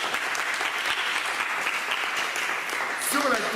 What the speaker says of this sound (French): Je veux que tu applaudisses.